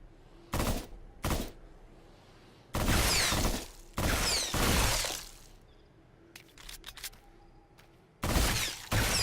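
Gunfire in the Brookhaven Experiment VR horror shooter: loud, sharp bursts of shots in separate clusters, some long and dense like rapid fire, with quieter mechanical clicks in between and no talking.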